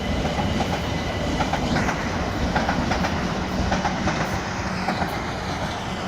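A Class 444 electric train, unit 444 038 bound for Alton, rolls steadily through Clapham Junction station, its wheels clacking rhythmically over the rail joints in a continuous, moderately loud passage with no voices.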